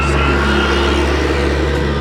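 A Caterpillar D3K2 dozer engine with a hard-starting, rough-running fault runs loud and close, a continuous heavy diesel drone with a slightly uneven rumble throughout.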